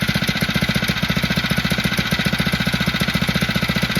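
A Phatmoto motor engine, already warmed up and running with the choke off, chugs in a fast, even pulsing rhythm, loud and close with no pauses.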